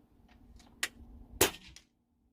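A Kral Puncher Breaker air rifle fires 38 grain HP2 .22 slugs at 50 yards: two sharp, close shots about half a second apart, each a crisp crack with a short tail, with fainter clicks around them and no talk.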